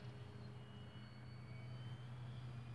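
A scratch-built 60-inch 3D RC airplane made of foam and packing tape flies past, its electric motor giving a faint, steady, distant drone that holds without breaks throughout.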